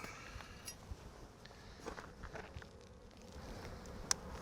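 Faint, soft insect buzzing drifts around with light rustles and occasional brief knocks, no voices, fairly quiet and close.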